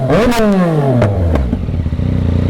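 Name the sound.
motorcycle engine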